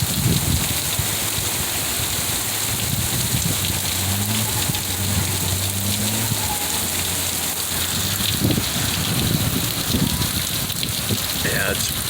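Heavy rainstorm in Utah after a dry spell, a dense, steady roar of rain pouring down close by, continuous and loud the whole time with a faint low rumble underneath.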